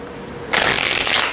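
A deck of tarot cards is riffled in one quick, crisp burst of flapping card edges, close and loud, with no voices.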